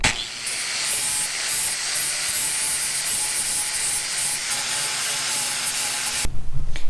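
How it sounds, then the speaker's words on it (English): A steady, loud rubbing and hissing fills most of the clip as wax and grease remover is sprayed and wiped on a plastic car bumper, then it stops abruptly near the end. "I just got my wax and grease remover, just spray it down real good"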